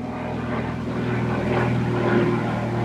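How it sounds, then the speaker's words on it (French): An airplane passes over quiet countryside, a steady, fairly loud engine drone holding throughout without a break. "C'est un avion."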